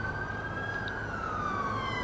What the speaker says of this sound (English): Oh, here comes the ambulance.